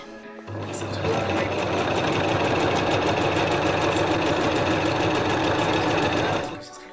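A sewing machine runs steadily for several seconds, close and loud with a fast even rhythm, stitching straight lines through fabric layered over foam padding, then winds down.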